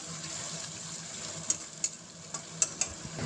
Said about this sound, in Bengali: তারপরে মাছটা ভেজে নেব।